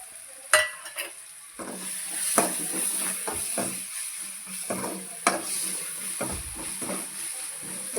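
Prawns fry with tomatoes in a pan for radish prawn gravy, a soft steady sizzle broken by sharp scraping stirs and clinks of a spoon against the pan.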